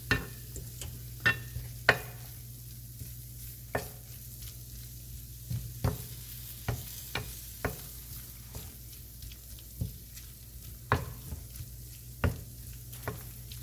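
Chicken filling with parsley being stirred in a pan, with soft scraping and light sizzling and a string of irregular utensil clacks against the pan, close by and fairly quiet over a steady low hum.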